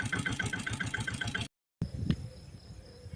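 A 2000 model Taurus motorbike with self start runs close by with a steady, rhythmic thumping beat, cuts out abruptly into a moment of silence, then returns as a quieter, smoother idle after a single click.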